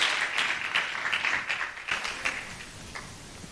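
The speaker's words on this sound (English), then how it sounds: "Keep the claps going." Audience at a talk on bridging the digital gender gap clapping, a moderate round of hand claps with distinct individual smacks that gradually thin out toward the end.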